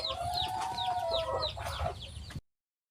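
Chickens cluck repeatedly at close range in a farmyard, with a steady stream of overlapping calls over a low background hum until the sound cuts off abruptly.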